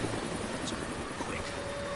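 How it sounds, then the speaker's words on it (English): A helicopter in the video game Deadlight gives a steady, broad rumbling whir throughout, moderately loud and constant without talk over it. "That's the helicopter chasing my friends."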